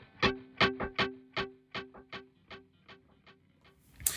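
Guitar played through a BOSS DD-500 stereo delay pedal: a single plucked note repeats in a steady echo train, each repeat softer and decaying over about four seconds, ending with a brief noisy burst.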